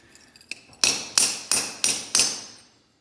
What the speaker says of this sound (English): Just brought in a small sledge to see if this will make it a little easier.